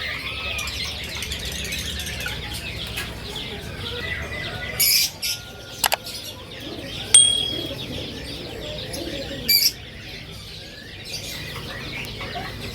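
Australian parakeets in cages at a bird market chirp and squawk in busy overlapping chatter, with a few louder sharp calls and wing flutters against steady background noise.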